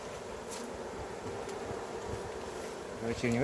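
Honeybees hum around an opened hive box during a sunflower honey harvest, a steady close buzzing that fills the background, with a voice starting up at the very end.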